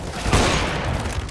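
Gunfire in the shooter game CS:GO: one sharp, loud burst cracks out early, then fades into a rumbling tail with no other shots.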